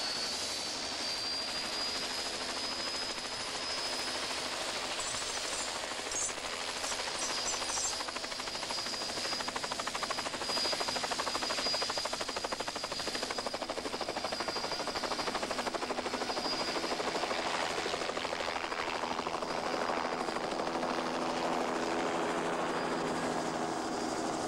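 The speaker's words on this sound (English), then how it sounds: "For the heaviest bears, the easiest way is to use the helicopter" A helicopter lifts a polar bear for weighing, giving a steady, loud, continuous engine and rotor roar that stays dense and unbroken throughout, with no voices.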